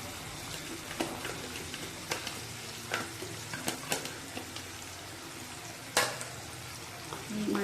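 Chicken being fried with a paste of ginger, garlic and onion masala, a low steady sizzle broken by sharp spoon scrapes and clacks against the pan at irregular intervals, close and fairly quiet, with no talking.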